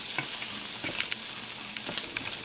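Garlic and Yves veggie chicken strips sizzle in a hot pan, a close, steady crackling fry with a few light stirring scrapes and no talking.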